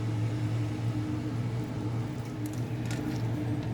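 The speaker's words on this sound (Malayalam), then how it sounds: "ബാക്കിയുള്ള അരിയും കൂടി അടിച്ചെടുക്കാം." Mixer grinder grinding soaked rice with cumin and cardamom into batter gives a continuous, loud, steady motor hum that stays close throughout, broken only by faint clinks near the end.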